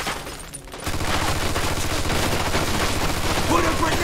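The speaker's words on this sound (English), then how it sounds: "Looks like we found the machine gun." Rapid, sustained machine gun fire in Mafia II, a loud rattling burst that starts after a brief lull and continues without pause, with a voice heard faintly near the end.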